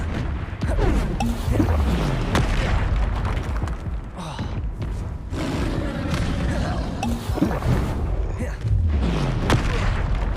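Confringo blasting spell explosions in the game Hogwarts Legacy, booming impacts that repeat several times amid dense combat noise, with voices speaking over the fight.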